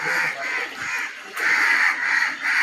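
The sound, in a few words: crows cawing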